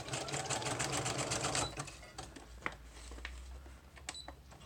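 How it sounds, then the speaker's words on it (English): A sewing machine stitching down the edges of paper pieces runs in a fast rattling burst up close, then stops, leaving scattered clicks and handling sounds. "I'm going to sew down all the edges all the way around it."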